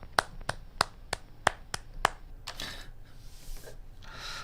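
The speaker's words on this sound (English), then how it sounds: "Let's give some applause" Someone claps slowly as applause after tasting a 2021 Patroferno Appassimento Puglia Primitivo red wine. About seven sharp, close, evenly spaced claps come first, followed by a looser, softer stretch of rustling and patting.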